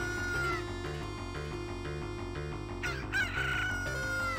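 A chicken crows and clucks in the Zelda Ocarina of Time video game, with shrill bird calls rising over the game's steady looping music.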